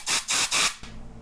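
Compressed air blown through a carburetor jet during cleaning with Berryman B-12 spray, three sharp hissing bursts in quick succession, loud and close, followed by a quieter tail.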